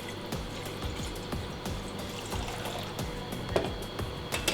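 Water, about 500 grams, poured into a bowl for gluten-free pizza dough: a continuous splashing, gurgling pour with small bubbly bursts, close and moderately quiet.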